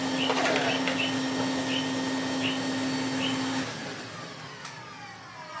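An older vacuum cleaner with a low-wattage motor runs steadily on a hard floor, its close, continuous whine holding even before dropping away toward the end.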